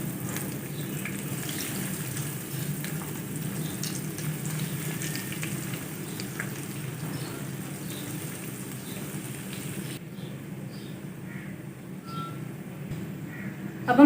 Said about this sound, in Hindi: अब हम रोल डालेंगे और लो फ्लेम पर पकाएंगे।